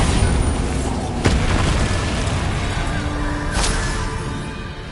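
A Bombarda explosion spell from Hogwarts Legacy, with a booming burst early on and a second blast later over a loud, rumbling, continuous bed of game noise.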